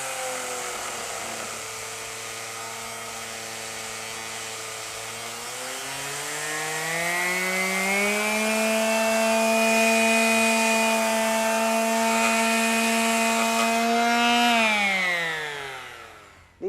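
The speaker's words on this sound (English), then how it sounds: "you have variable speed, which enables you to actually slow the sander down a little bit" A Black & Decker KA400 power sander runs on wood with a steady whine that climbs in pitch as it speeds up, holds high, then winds down at the end; no talking.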